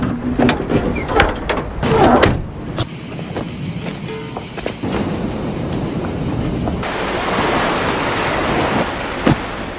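Ocean waves wash onto a beach in a broad, steady surf roar mixed with wind buffeting the microphone, with a few sharp knocks early on and the wash swelling fuller toward the end.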